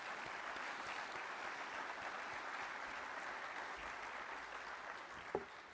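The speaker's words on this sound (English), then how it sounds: "please join me in a round of applause for General Sullivan for all that he has don" An audience at a military conference session applauds in a continuous, even roar of clapping heard from a distance, sustained throughout with a single sharp knock near the end.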